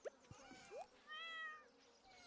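A cartoonish cat meows in the Stardew Valley farming game, a few short mews and one longer drawn-out meow over quiet background game sound.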